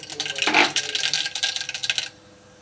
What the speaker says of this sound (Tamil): கடுகு போட்டுக்கலாம்.